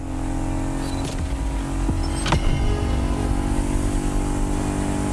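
A famous Ford car in the video game The Crew Motorfest, its engine idling and droning steadily with a couple of sharp clicks and a brief rise in revs, close and fairly loud, with no talk.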